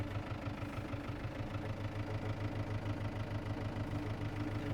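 A farm tractor's engine idles nearby with a steady, even low thrum and a regular pulsing beat that holds unchanged throughout, with no voices.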